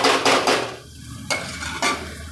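A spoon stirs a pot of farali khichdi with salt, producing several rhythmic scraping strokes followed by two sharper clinks of utensil against metal.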